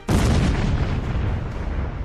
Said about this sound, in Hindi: दिन में नीले खुले आसमान को स्याह कर रहे हैं ईरान के मिसाइल धमाके।